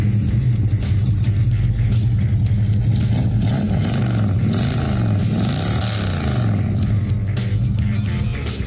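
A 1965 Ford Falcon at a Colorado Springs car show runs with a loud, continuous low rumble and a slightly rising engine note, steady throughout with no voices.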